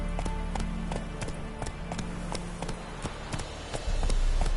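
Roach the horse gallops in the video game The Witcher 3, hooves beating in a steady, quick clip-clop rhythm that carries on throughout, close and distinct over a low ambient bed.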